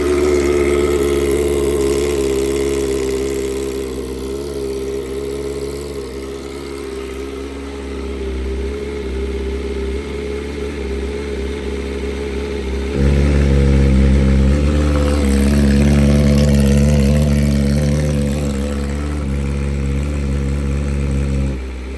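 A 2024 BMW S1000RR motorcycle fitted with a switchable servo eliminator, idling steadily and close, then revving higher and louder partway through.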